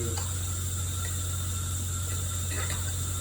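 A hand ratchet snugs down the bolts on a Richards transmission, giving a faint, steady mechanical clicking over a constant low hum, with no talking.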